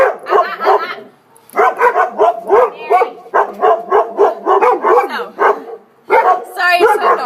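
Dogs barking during leash training, short loud barks and yips in quick repeated bursts close by, with a handler's voice giving commands in between.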